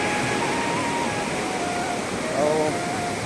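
A waterfall pours into a river in rural Chhattisgarh, giving a steady, broadband rush of flowing water that holds even and continuous throughout, with faint tonal whistles or bird-like calls over it near the end.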